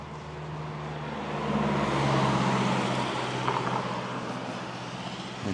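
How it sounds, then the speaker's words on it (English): A car passes along the old Castletown Road near Oakhill and Keristal on the Isle of Man, a steady broadband road roar that swells to a peak midway and then slowly fades, with no voices. "Hoping not too many noisy cars are going to come along here"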